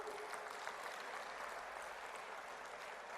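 Sustained applause from the audience at a Telugu federation conference, steady dense clapping throughout with no gaps, moderately distant and even in loudness.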